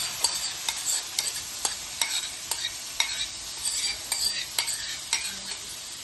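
Fried paneer cubes being stirred into sauce in a pan for paneer devil, a spoon scraping in regular strokes about every half second over a steady soft sizzle, close and alone without talk.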